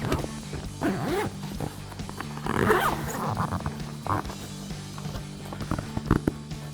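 A zipper is pulled along the rear window of a Jeep Wrangler TJ soft top, giving several scratchy, uneven zips in short bursts, close by, with some rustling of fabric in between.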